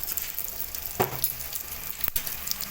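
Cumin seeds tempering in hot oil for a bottle gourd and prawn curry, a steady close crackling sizzle with a couple of louder spits and pops partway through.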